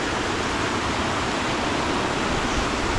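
Loud, constant rush of fast-flowing water, a dense steady roar like a stream or small waterfall nearby, no voices.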